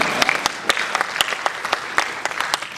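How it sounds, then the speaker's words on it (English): An audience at a question-and-answer session with actor Michael Madsen claps steadily in a brief burst of close, crisp applause. "clap for that one"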